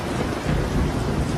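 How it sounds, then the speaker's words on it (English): Heavy monsoon rain pours down in the Western Ghats with low thunder rumbling beneath it, a dense, continuous wash of sound. "The monsoons of the Western Ghats are legendary, dropping almost 9 meters of rain annually in some places."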